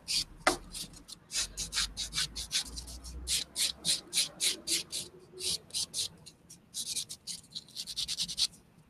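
A 100-grit nail buffer rubs over a polygel nail in quick, rhythmic back-and-forth strokes, each a short, close, papery scratch, with brief pauses between bursts.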